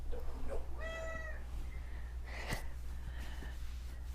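A house cat meows once with a clear harmonic call, followed by faint snorting or breathy sounds, close and quiet indoors with no talking.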